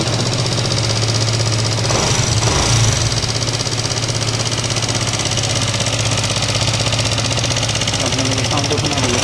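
A Yamaha MT15 motorcycle idling at a dealer workshop after a poor garage repair, a steady close engine hum with a rough, rapid ticking knock throughout, under a voice talking.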